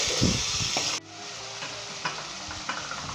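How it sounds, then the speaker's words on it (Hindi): Mutton for a Pakistani-style nihari sears in oil in a pot, with a constant close sizzle that dips briefly, then resumes alongside light scraping strokes as the meat is stirred. "और 5 मिनट अच्छे तरीके से हम इसे भूनेंगे इसके अंदर"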